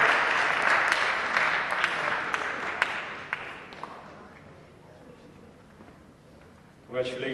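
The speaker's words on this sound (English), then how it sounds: "Give a round of applause for Fatima Diallo." Audience applause at an award ceremony for a Guinean community event, a dense wash of clapping that gradually fades, followed by a brief burst of voices near the end.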